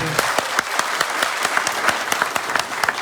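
A crowd at a Congress campaign rally in Nalwa claps in a loose, rhythmic pulse, with sharp, close claps landing about every fifth of a second over a steady bed of applause.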